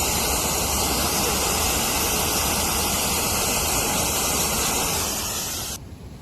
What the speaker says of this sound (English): it's actual water running down.